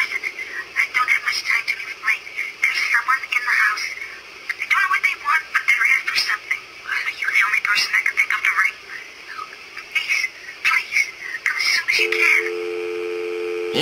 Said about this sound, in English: Dude gets a phone call.